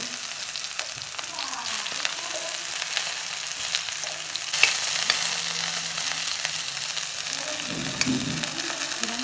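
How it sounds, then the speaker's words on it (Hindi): Peeled and washed moringa drumstick pieces fry in hot mustard oil, giving a dense, continuous sizzle that stays loud and even throughout, with occasional faint stirring scrapes. "सरसों के तेल, और एमा डाल देबो हमार जो मुनगा ला जो रखे छील छाल के धो धा के तेला"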